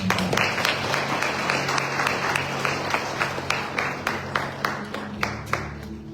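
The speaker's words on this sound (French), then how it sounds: "si vous applaudissez" A church congregation applauds in a steady, rhythmic way, with a few louder distinct claps standing out toward the end over a sustained low hum.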